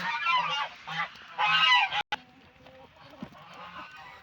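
A female goose honks loudly in several nasal calls close by on a farm, followed by quieter rustling and faint background sounds.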